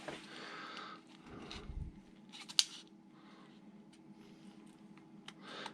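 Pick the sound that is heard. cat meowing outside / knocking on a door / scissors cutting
scissors cutting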